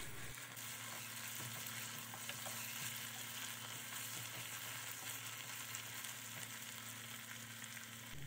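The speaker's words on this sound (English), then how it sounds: "Then add your peppers and cook it for about 1 to 2 minutes" Peppers fry in a pan for an akara sauce, a soft, continuous sizzle and crackle that stays level and fairly quiet for several seconds, heard alone without talk.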